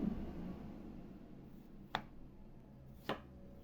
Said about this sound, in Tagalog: ang ating kamatis, guys, hiwain lang natin ng